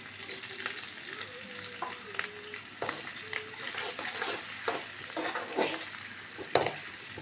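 Chopped garlic, ginger and green chilli sauté in hot oil for gobi manchurian, a continuous sizzle broken by repeated spatula scrapes and clacks against the pan, with brief tonal squeaks.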